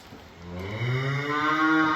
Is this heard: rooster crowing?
no